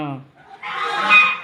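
Goose honking by a pond, a loud close raspy call lasting under a second, right after a brief spoken voice.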